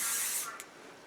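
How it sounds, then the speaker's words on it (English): A can of Percy & Reed hairspray sprays in a short, close burst of aerosol hiss that cuts off abruptly, followed by a tiny click and faint room tone. "That's a lot of aerosol."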